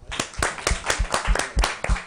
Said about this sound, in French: Rien, ça vaut des applaudissements quand même.